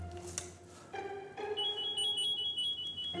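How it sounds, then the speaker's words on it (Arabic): A phone rings indoors with a steady electronic tone that rises in level and persists, heard somewhat muffled as if from another room amid background noise. "الله ده التليفون بيرن."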